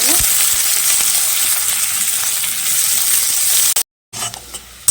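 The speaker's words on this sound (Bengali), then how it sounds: "তেল দিয়ে রাখলাম তেলটা গরম হয়ে যায় পেঁয়াজ রসুন কুচিটা দিয়ে দেবো একসাথে একটু হালকা ব্রাউন কালার করে ভেজে" Chopped onion and garlic fry in hot oil with a loud, close, continuous sizzle and some stirring, broken by a short silent dropout before the frying resumes.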